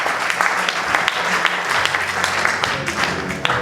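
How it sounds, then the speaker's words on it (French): A congregation applauds loudly at a French-language church service led by an apostle, with steady clapping and scattered sharper claps throughout, a voice occasionally audible beneath the crowd. "Est-ce qu'on peut acclamer très fort?"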